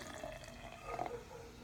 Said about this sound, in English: So this one I've never had before, so let's go ahead and pour it.